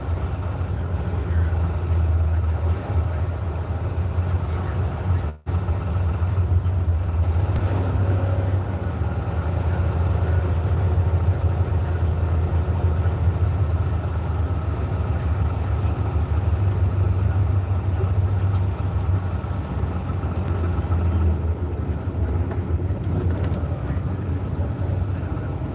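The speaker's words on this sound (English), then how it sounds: "Oh, look, a locomotive." A locomotive engine running with a steady, loud low drone and hum, continuous throughout with only a brief dropout near the start.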